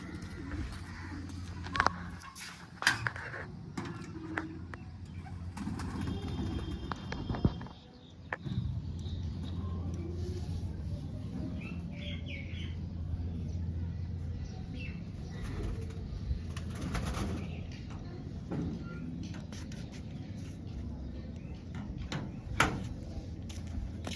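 Pigeons coo softly in the background, joined by bursts of wing flapping and scattered knocks and rustles nearby.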